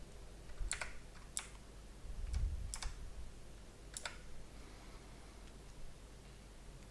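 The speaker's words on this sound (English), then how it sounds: "So let's just type it in." Someone types a word into a computer while building a Japanese vocabulary list, giving several quiet, separate keystroke clicks spread over a few seconds against a low room hum.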